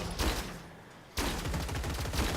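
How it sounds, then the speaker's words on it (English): Machine gun bot in the Gladiabots video game firing bursts of rapid synthetic gunfire, loud and continuous, with a brief lull before the shooting resumes. "the machine gun did get distracted shooting the shotgun"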